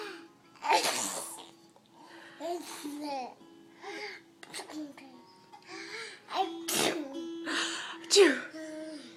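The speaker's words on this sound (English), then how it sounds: "Achoo!" A young child sneezing several times in a row, close and fairly loud, between bursts of babbling and small vocal sounds.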